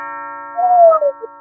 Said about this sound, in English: She's at the doorbell